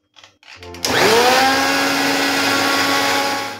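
A kitchen mixer grinder starts after a few clicks and rattles, its motor spinning up with a rising whine into a loud, steady, close roar that holds to the end.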